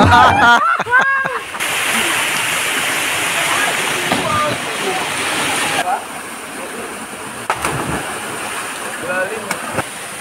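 Dayhag Falls in Boljoon, Cebu, pours with a loud, close, continuous rushing roar, broken by a few sharp splashes and knocks, while people's voices come and go over the water.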